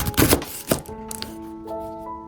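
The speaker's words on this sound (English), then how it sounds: "Cut off the thick bottom end, then hold the top and gently pull" A few sharp knife chops against a board as a knife cuts the thick bottom end off a corn cob, close and crisp, followed by a lingering soft ringing tone.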